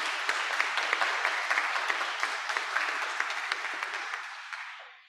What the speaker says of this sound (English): We can clap for them, y'all.